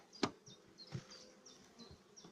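Honey bees around an open hive frame during spring colony inspection, a soft close buzz of individual bees flying past in short repeated swells.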